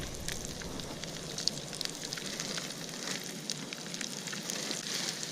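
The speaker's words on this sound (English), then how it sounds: "Do your frying up thing." Continuous crackling sizzle of catfish frying in hot oil, close and steady, with scattered sharp pops and no talking.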